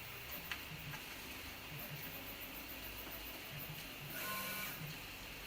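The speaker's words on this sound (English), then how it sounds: "Sorry about the printing in the background." Background printer running steadily at low level, with faint repetitive ticking and a brief rise in mechanical whir near the end; no speech.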